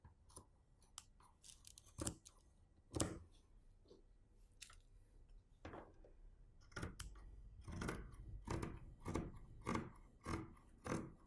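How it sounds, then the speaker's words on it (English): Scissors cutting the back piece of dress fabric, a series of crisp, close snips, sparse at first and then coming in a quicker rhythm, with quiet pauses between cuts. "I remind you that I'm cutting the back."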